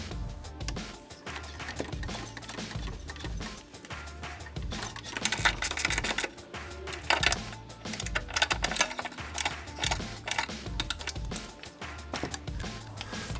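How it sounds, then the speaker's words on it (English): A jack working under the rear suspension of a Honda Civic during a SiriMoto rear lower tie bar install gives rhythmic, close clicking and ratcheting that grows louder and busier partway through. "I'll go ahead and jack this up right now, put some tension on it"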